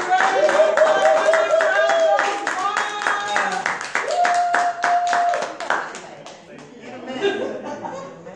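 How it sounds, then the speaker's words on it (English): An audience claps in a room during a life-leadership empowerment event, the clapping mixed with chuckles, voices and a held musical note, growing sparser and fading toward the end. "So I want you all to help me to clap them up to the front of the room"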